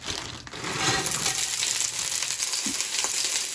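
Onions tossed into a hot pan set off a loud, dense sizzle that holds steady, broken by a few soft clatters as pieces are moved, for a budget home dinner.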